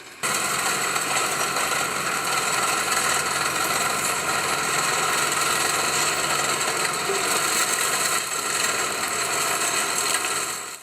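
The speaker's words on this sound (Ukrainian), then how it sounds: "доглядають за однорічними соснами з допомогою трактора та мульчувача" A tractor-drawn chain mulcher works between rows of one-year-old pine seedlings in a Poltava-region forestry plantation, a loud, steady broadband engine-and-thrashing roar that runs unbroken throughout.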